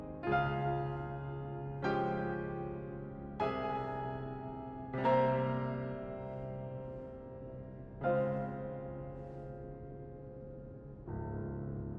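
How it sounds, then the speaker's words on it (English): A bell in the video game Lies of P tolls six times at uneven intervals, each deep resonant strike ringing out and slowly decaying, clear and unaccompanied by talk. "We got the bell."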